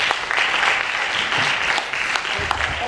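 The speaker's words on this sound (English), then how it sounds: "Can we give him a round of applause?" Indoor audience at a Revenue Mobilisation Allocation and Fiscal Commission event applauding the commission chairman, a dense steady clapping that fills the whole stretch at close range.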